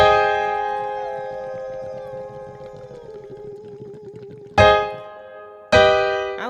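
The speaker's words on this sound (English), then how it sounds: "you can get into your bottle and it's going to sound like this." Singing through a singing straw into a bottle, a bubbly, buzzing sustained tone gliding slowly downward over a rough gurgling bed, followed by two short bright pitched bursts, with no talking.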